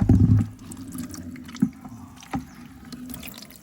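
Water gushes briefly from a tap at the start, then settles into a soft, steady flow with occasional drips and splashes, close by.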